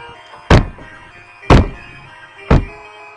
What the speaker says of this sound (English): that was the sound of my head hitting the computer